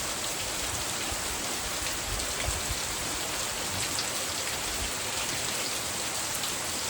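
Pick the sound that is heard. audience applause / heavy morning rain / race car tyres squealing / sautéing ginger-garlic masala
heavy morning rain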